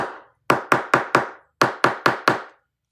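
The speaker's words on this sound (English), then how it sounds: "whenever I do eyelets, I always take my little hammer and give it a little," A small hammer taps metal eyelets set in a book with a hidden spine, eight sharp close raps in two quick groups of four separated by a short pause, no talking.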